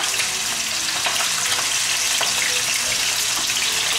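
Chicken browning in a heavy reinforced casserole pan, a loud, steady sizzle with faint crackles, up close and continuous, no one talking.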